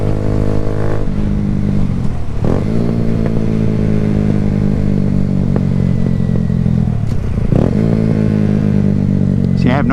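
A Kawasaki Z125 stunt motorcycle is ridden close by in cold weather, its engine holding a steady buzzing drone. Twice the revs dip and climb again sharply as the rider downshifts and brakes.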